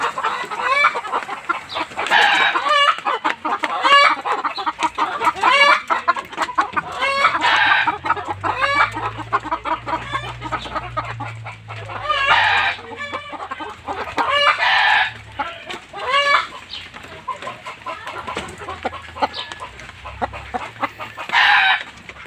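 Rhode Island chickens and ducks clucking and crowing in a noisy flock, repeated loud bursts of calls overlapping close by throughout, with no talk.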